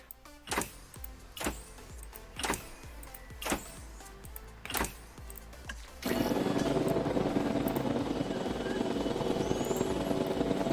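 Helicopter in a Jurassic dinosaur park video game, airlifting dinosaurs: a loud steady rotor and engine roar that starts abruptly partway through after a run of sharp repeated clicks.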